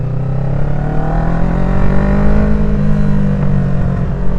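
The sister's green motorcycle hums loudly up close under way, engine tone climbing gradually then holding, with wind rush and no talking.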